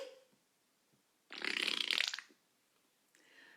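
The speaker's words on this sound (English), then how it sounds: "as he started farting philosophically" A single loud fart noise lasts about a second during a read-aloud of a story about a dog. It stands alone against near silence.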